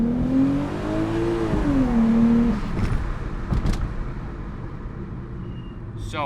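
An Audi B5 S4 with an SSAC exhaust is pushed to wide open throttle, its engine note climbing loudly and steadily before easing off, followed by a few sharp clunks and lighter mechanical rattles.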